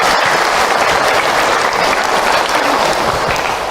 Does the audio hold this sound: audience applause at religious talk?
yes